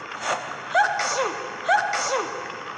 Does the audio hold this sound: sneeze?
yes